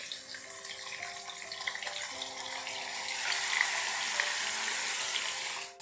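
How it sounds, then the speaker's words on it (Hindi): Marinated chicken, with green chillies already frying, hits a hot pan and sets off a loud, steady sizzle that swells and holds close for several seconds with no voices over it. "और अब इसमें हम डाल देंगे मैरिनेट किया हुआ चिकन।"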